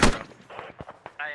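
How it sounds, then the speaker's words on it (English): Airsoft guns firing during a team skirmish operation, a loud sharp shot up front followed by scattered quieter pops and rattles, with faint voices in the background. "There's a lot of rounds being fired."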